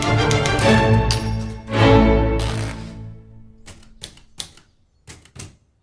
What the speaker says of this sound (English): clicking keys and aggressive returns, the sounds of a typewriter